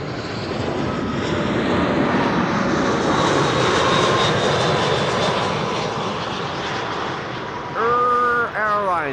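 An airliner from Erbil, Iraq touches down at Amsterdam Schiphol with a loud, close jet roar that swells and then eases, followed near the end by a short burst of rising and falling whistle-like tones.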